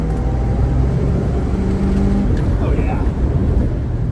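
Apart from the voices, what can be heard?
5.9 Magnum swapped 1964 Dodge Dart driving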